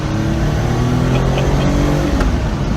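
A Jaguar car engine revs loudly and steadily up close, a dense mechanical drone with rising turbo whine and a slight pitch swell near the end, with no talking.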